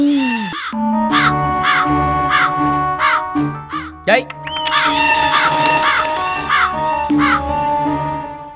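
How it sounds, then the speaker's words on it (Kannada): A crow caws loudly again and again in a steady series of harsh calls, with a brief scuffle of noise in the middle and no one talking. "ಕಾಗೆಯನ್ನು ಸ್ವರ್ಣ ಮುದ್ರೆಯಿಂದ ಓಡಿಸುತ್ತಿದ್ದಾನೆ."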